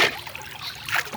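Paddling a small boat across a river, with soft, close water trickles and dribbles from the strokes and no voices.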